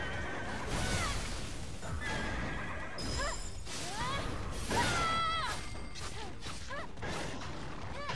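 A horse in the video game Stellar Blade whinnies and neighs several times over clattering hooves and mechanical clanks, loud and close, with no talk over it.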